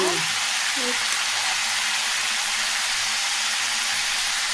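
Nalleru (veld grape) stems frying in a pan for chutney, a steady loud sizzle with a few brief faint tones near the start, close and unbroken.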